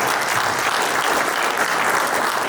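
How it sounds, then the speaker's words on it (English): An audience at a signing ceremony for a memorandum of agreement with Glacier National Park bursts into dense, sustained applause, loud and steady with no break throughout. "Can I get a round of applause for all of our guests?"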